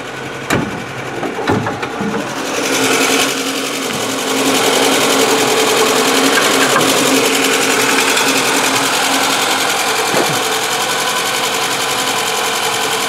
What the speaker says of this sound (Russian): Мотор после капиталочки.